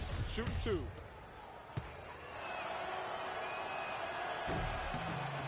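Basketball bouncing before a free throw in NBA 2K16, a few thuds then one sharp bounce, with a crowd murmur behind and commentary speech over it.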